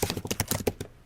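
Rapid typing on a computer keyboard, a burst of close, crisp key clicks in an uneven rhythm that tapers off toward the end, heard alone without talk.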